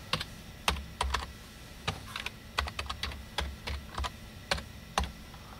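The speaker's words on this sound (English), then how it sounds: "Let me type it in." Someone types a password on a computer keyboard, with a quick irregular series of close, crisp key clicks and a few heavier keystrokes, with no talking.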